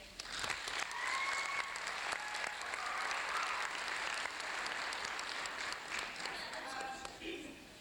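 A school assembly audience at a spring 1988 S.A.D.D. event applauds in a sustained wash of clapping for several seconds, with some voices mixed in before it tapers off.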